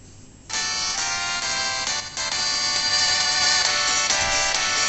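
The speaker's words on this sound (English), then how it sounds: "I've created 3 new ringtones, and if you're a Final Fantasy fanatic, you'll recognize all of these" A Final Fantasy 6 ringtone built from video game music plays after a short quiet start, a bright melodic electronic tune that is loud, steady and sustained.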